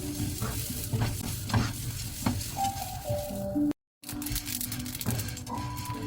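Rice with a little water being stirred continuously in a pan over high flame, a steady crackling sizzle with scraping stirring strokes throughout, loud and close, with a brief dropout near the middle.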